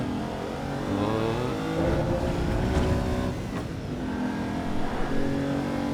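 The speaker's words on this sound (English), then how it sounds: "it definitely drives like an old Lamborghini or any kind of old supercar" An old Lamborghini-style supercar engine in the Assetto Corsa EVO racing game at Sebring, a continuous droning engine note rising and falling as the car accelerates and revs, fairly loud, with no talk.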